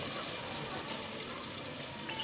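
Water poured into a pot of fried chicken while cooking biryani, a steady gushing pour heard close up with no talking.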